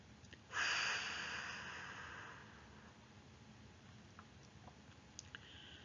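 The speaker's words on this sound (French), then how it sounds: "Soufflez fort par la bouche pour chasser les tensions accumulées dans votre ventre." A single forceful breath blown out through the mouth during a sophrology relaxation exercise, starting loud and close, then trailing off slowly over several seconds into quiet with faint small noises.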